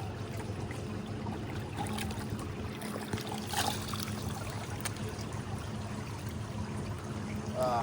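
Water trickles and splashes steadily while broken snorkeling gear is rinsed beside an overwater villa, a low continuous wash with faint background noise.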